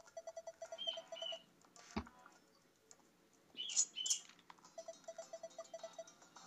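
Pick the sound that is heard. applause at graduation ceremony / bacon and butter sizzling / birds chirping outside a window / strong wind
birds chirping outside a window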